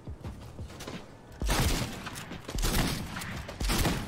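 A shotgun in Fortnite fires three loud blasts about a second apart over steady game background noise, with no talking.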